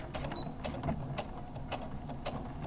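A sewing machine stitches a 5/8 inch seam through foam, giving a steady mechanical whir with evenly spaced clicking pulses that run the whole time at close range.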